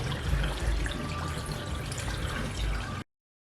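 Kombucha pours steadily from a 3-gallon crock into a jar in a smooth, continuous, close-up stream of liquid that stops abruptly after about three seconds.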